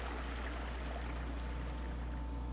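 A creek flows steadily with a continuous, close rushing wash of water and a low hum beneath it, with no voices.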